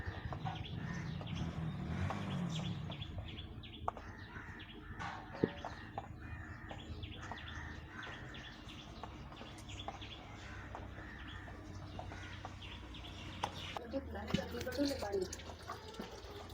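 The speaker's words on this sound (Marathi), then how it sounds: "मित्रांनो, आमच्या पत्र्यावर एक कबूतर आलेला आहे" A pigeon perched on a tin roof where rice is scattered for it gives faint soft calls and chirps, heard at a distance beneath a person talking, with some running-water background noise throughout.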